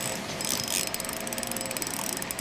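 A fishing reel's drag clicks in a rapid, steady ratchet as a hooked trout strips line at a trout lake, close and fairly loud for the whole stretch with no talk over it.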